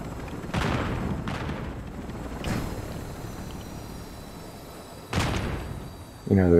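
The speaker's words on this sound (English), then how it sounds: "there's explosions over there" Several explosions in a battle royale duos video game go off at spaced intervals, sharp booms with decaying rumble, moderately loud over a steady background.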